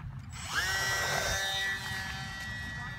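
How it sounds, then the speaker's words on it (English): HobbyZone Champ S RC plane with a brushless motor revving to full throttle for takeoff, a whining tone that rises quickly and then holds steady against faint background noise. "when you go full throttle for your takeoff"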